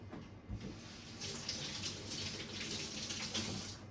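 Tap water runs steadily to rinse out a container in a kitchen where a chef is preparing plant infusions: a continuous, fairly close splashing hiss with a soft thump near the start and no talking.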